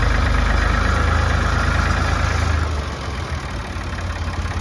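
A Ford 3610 tractor's engine runs at a steady low idle, a close, loud diesel chug with rhythmic knocking pulses that eases slightly in level partway through, with no voices.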